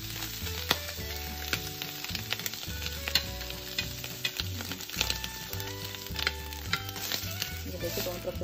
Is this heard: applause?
no